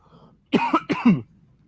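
A man coughs twice in quick succession, close and fairly loud, the second cough rougher and longer, with quiet room tone before and after.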